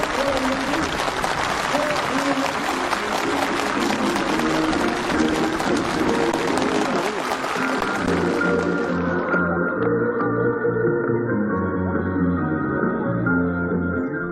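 Enthusiastic applause fills a North Korean housing ceremony for new homes in Pihyon County, North Phyongan, steady and dense crowd clapping for the first half before giving way to music with a voice over it.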